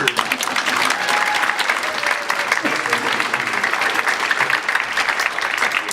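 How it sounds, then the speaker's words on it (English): A crowd at an All City Band season showcase concert applauds loudly and steadily throughout, its clapping mixed with a low murmur of voices. "Round of applause."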